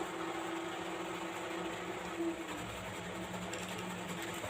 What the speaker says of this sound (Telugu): పెద్ద కుట్టు పెట్టేస్తున్నాను